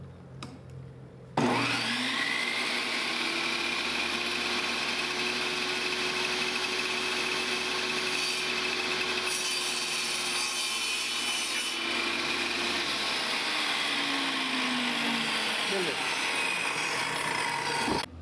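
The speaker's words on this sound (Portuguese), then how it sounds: "Agora eu vou gastar na serra circular" A circular saw whines steadily through wood for a long continuous cut, starting with a sharp onset and holding a loud, even tone before winding down near the end.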